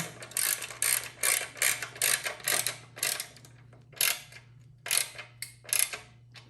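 A ratchet torque wrench tightens skid plate bolts on a 2022 Harley-Davidson Pan America, clicking in quick bursts of ratcheting separated by short pauses, close and fairly quiet over a steady low hum.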